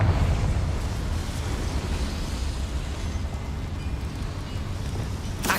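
A Confringo blasting spell in Hogwarts Legacy erupts in a deep explosion that fades into a long rumbling roar, with a faint crackle at the very end.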